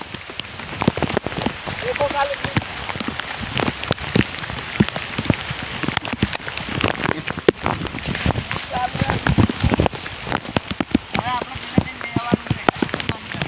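Heavy rain pours down steadily, dense drops pattering and splashing on surfaces nearby, with faint voices now and then beneath it.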